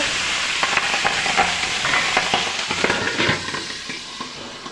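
Tengra fish frying in oil in a pan, a steady sizzle with repeated clicking stirs and scrapes, close and fairly loud, fading slightly at the end.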